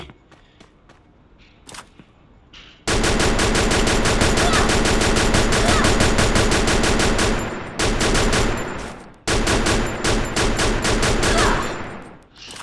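Rapid automatic gunfire in the Free Fire battle royale mobile game arrives as long, loud, continuous bursts with short breaks, after a few scattered single shots and footsteps.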